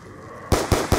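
Gunfire in Call of Duty Black Ops 2 Zombies: three loud, close bursts of shots in quick succession, each a sharp hit with a short tail, following a brief quiet stretch of faint game ambience.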